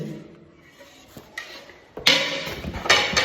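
A long metal pathiri tawa griddle pan is handled and unpacked, producing faint shuffling at first, then louder metallic clatters and rattles close by, with a final sharp clank.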